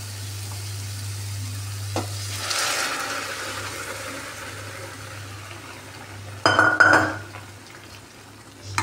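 Cooked chickpeas tipped into oily chickpea masala for chole, a soft sizzle, a thump as they land, then a louder burst of frying and stirring near the end, with no voices.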